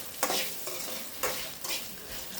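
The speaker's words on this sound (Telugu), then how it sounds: "ఇందులో మనకు టేస్ట్కి సరిపడంత సాల్ట్ వేసుకొని మళ్ళీ బాగా ఫ్రై చేయాలి" Brinjal pieces with salt stir-fried in a pan, a steady close sizzle broken by a few scraping strokes of a spatula, no voices.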